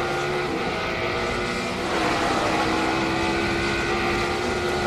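A race car engine at a 2003 Sirius Satellite Radio race at Watkins Glen is wound out high in third gear, around 9,500 RPM. It makes a loud, sustained droning whine that climbs slightly in pitch midway, with no voices.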